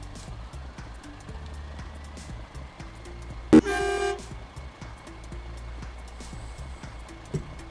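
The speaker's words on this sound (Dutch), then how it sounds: "Toeter doet het in ieder geval." Truck horn in a truck driving simulator game, one short loud honk of about half a second sounding over steady engine and road noise.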